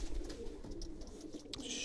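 Breeding pigeons in a loft coo in low, steady murmurs that run continuously under a faint background hiss, with a brief brighter rustle near the end.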